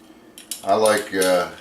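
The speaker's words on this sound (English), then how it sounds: "you can get you a pizza cutter and just slice it however you want" A pizza cutter rolls across a homemade pizza, producing two short metallic scraping passes close by, each about half a second, with no talking.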